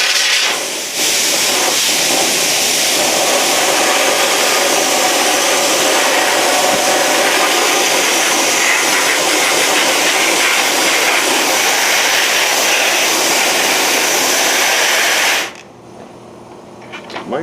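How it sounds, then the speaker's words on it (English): An air compressor runs loudly and steadily in a workshop during an AR-15 camo paint job, a constant broadband roar that cuts off abruptly near the end, leaving quiet. "If the compressor comes on, you have to forgive me. It's pretty loud, but we got to have a compressor."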